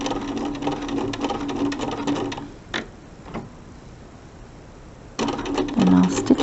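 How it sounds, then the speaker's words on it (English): A sewing machine stitches quilt binding on a mini quilt in steady motor bursts, running at the start, pausing for a stretch of near quiet with a couple of brief clicks, then starting again near the end. "So I'm going to take a few little tiny stitches here just to get started and lock it in place."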